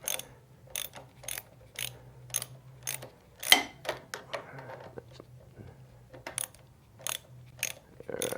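A ratchet wrench loosens long, roughly three-inch handlebar riser bolts on a motorcycle, giving repeated crisp clicking strokes in an uneven rhythm with a faint hum beneath.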